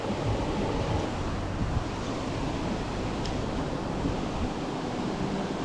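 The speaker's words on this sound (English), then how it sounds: "we're at this deep eddy here, just underneath the waterfall" Steady, dense roar of a waterfall pouring into a deep eddy in El Yunque rainforest, Puerto Rico, a constant broadband rush with no pauses and no voices.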